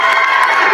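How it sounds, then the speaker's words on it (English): A crowd at a cosplay convention cheers loudly, a brief dense burst of shouting and whooping from many voices at once. "They're cheering for Despair."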